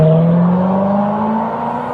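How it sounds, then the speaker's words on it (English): Steady engine hum and tire whir of cars moving past on a road, heard from inside a stopped vehicle during a police traffic stop, continuous and moderately loud with no talk. "See all these cars going around you"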